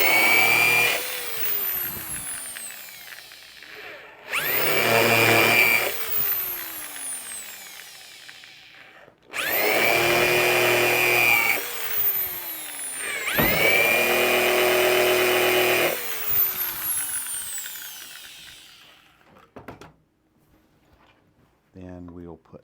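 A power drill bores four holes into a table saw sled, in about four separate whining bursts that rise and fall in pitch, loud and close, with short pauses and a final brief spin-up.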